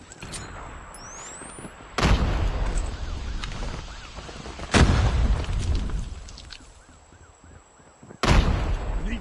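Three heavy, booming grenade blasts from a military video game hit at spaced intervals, each one loud and sudden with a rumbling decay, over quieter background battle noise and electronic tones.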